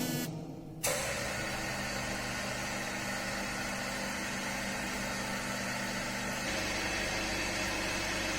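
Torsion testing machine starting up and twisting a 35 cm mild steel rod of 16 mm diameter: a short pause, then a steady mechanical hum and whirring drone that holds continuously, fairly close.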